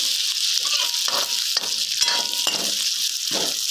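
Onions fry in a pan for rajma rice, a loud steady sizzle with a spoon stirring and clinking against the pan at intervals.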